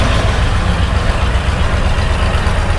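A 1983 Ford F-350 truck cruises in fourth gear, its loud, steady engine drone and road rumble filling the cab without letup.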